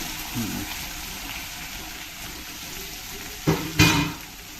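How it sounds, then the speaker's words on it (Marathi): Curry leaves and onion hit hot oil with a pinch of hing, a close steady sizzle followed by two sharp bursts of spitting crackle near the end. "आणि लगेच कढीपत्ता आणि कांदा टाकूया."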